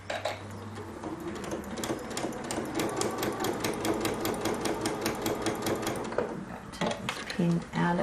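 Janome 15000 embroidery sewing machine stitching fabric, a rapid, steady mechanical clatter close by that runs for several seconds before stopping, followed by a few scattered clicks.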